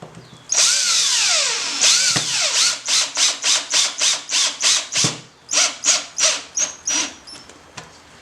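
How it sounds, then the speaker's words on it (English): A power drill whines up and bites into a metal can, then a quick series of short, regular bursts as holes are drilled one after another, close by. "Then you use whatever method that you like to drill the holes."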